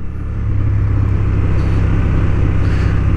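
Honda Hornet 750 motorcycle engine on a racing track, a steady, loud, close droning rumble holding an even pitch throughout with no voices.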